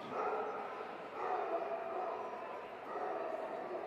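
An Irish Wolfhound at a hound show gives faint, distant barks and yips in a large, echoing space.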